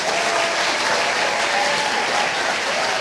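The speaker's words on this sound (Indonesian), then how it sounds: "berikan tepuk tangan yang meriah untuk Fiklang" Loud, dense applause from a school audience at a talk-show taping welcoming a guest speaker, a continuous roar of clapping with a faint crowd murmur and no speech.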